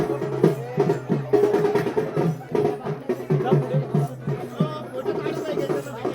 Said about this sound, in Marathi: असंख्य भक्त आलेले आहेत गर्दी आहे